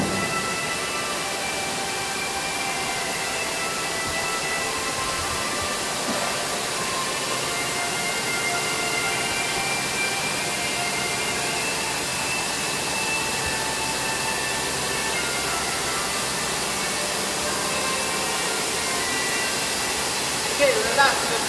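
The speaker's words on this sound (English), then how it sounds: "our gantry type 5-axis double column machine center." A gantry-type 5-axis double-column machining center runs in a factory hall, giving a steady broad hissing roar that holds level for the whole stretch, with faint voices in the background.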